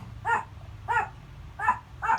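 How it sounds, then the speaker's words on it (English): A dog barks four times in an evenly spaced series, moderately close, each bark short and sharp over a low steady hum from a Zenith 7S633R radio in the background. "And my dog."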